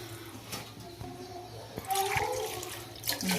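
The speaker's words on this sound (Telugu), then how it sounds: "ఇప్పుడు వాటర్ పోసేసుకున్నాము" Water poured from a glass into a cooking pot of pulao with softened vegetables: a steady splashing gush, moderately loud and close, building toward the end with no talking.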